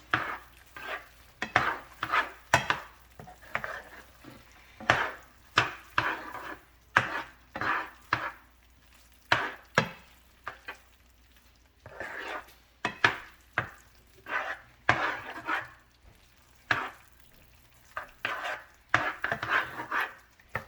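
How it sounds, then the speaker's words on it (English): Macaroni and cheese with cream being stirred in a pot, a run of close, irregular spoon knocks and scrapes against the pan with brief wet squelches between strokes, steady throughout with no talking. "Now what you want to do is mix really well so it gets all the cream on."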